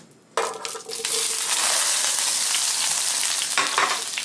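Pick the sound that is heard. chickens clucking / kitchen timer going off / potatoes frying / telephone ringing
potatoes frying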